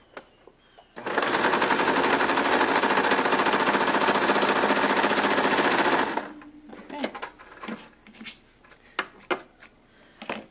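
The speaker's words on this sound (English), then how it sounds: "now that we're done with our sewing machine for the moment" A sewing machine runs in one fast, steady burst of rapid stitching on a Waldorf doll for about five seconds, then stops, followed by light handling clicks and rustles.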